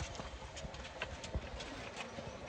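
Horses' hooves clip-clop on the steep mountain trek from Govind Dham toward Hemkund Sahib, a scattered, moderately distant series of hoof strikes over faint background ambience.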